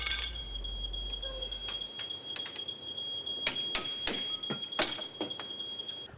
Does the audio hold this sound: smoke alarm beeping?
yes